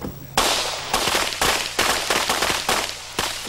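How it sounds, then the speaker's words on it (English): Semi-auto pistol fired at the barricade stage of the 1990 NRA Bianchi Cup National Action Pistol Championship, six sharp shots at a steady, roughly half-second rhythm, loud and close with ringing decay between each. "You can see he's shooting a semi-auto pistol"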